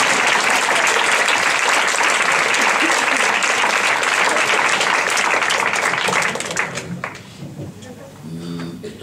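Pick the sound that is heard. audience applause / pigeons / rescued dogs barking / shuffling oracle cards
audience applause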